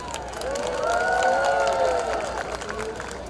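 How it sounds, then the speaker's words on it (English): A crowd cheering and applauding at a street naming ceremony for Palestine Way in Paterson, with sustained whoops and voices rising and falling over scattered clapping, a broad, lively swell of noise from many people. "I'd like to start with a huge round of applause for all of you for making this historic event possible"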